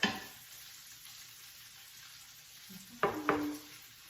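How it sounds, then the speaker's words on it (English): Potato gnocchi frying in butter with sage and garlic, a soft steady sizzle in a pan, then two brief louder crackles as pieces drop into the fat near the end. "we need all of them to go one by one into the butter, sage, and garlic"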